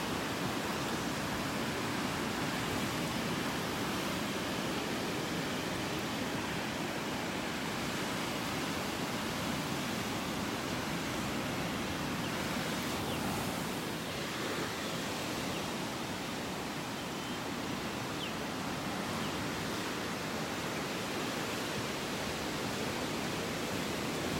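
Steady broadband surf wash from ocean waves on a North Naples, Florida beach during a morning walk, continuous and fairly loud with no distinct breaks between waves.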